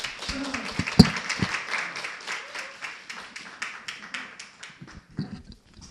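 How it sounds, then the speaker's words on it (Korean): Applause at a church event, a small group clapping with uneven strikes, one sharp loud clap near the start, then a lighter, fairly regular patter that fades toward the end. "우리 박수 한번"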